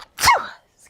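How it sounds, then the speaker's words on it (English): A single sharp sneeze from a person with a cold, close and loud, over in well under a second and followed by quiet. "Sorry, I'm about to sneeze."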